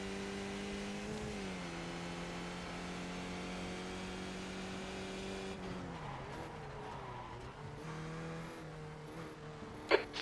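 Race car engine in a racing video game at Imola, a steady loud drone with shifting pitch as the car slows and comes into the pits, ending with a brief sharp knock.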